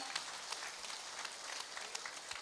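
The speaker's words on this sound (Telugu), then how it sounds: "ఆ టీం మొత్తానికి కూడా గట్టిగా చప్పట్లు తెలియజేద్దాం." An audience at a vegetarian rally claps for the organising team, a steady wash of applause, moderately distant and even, with no talk over it.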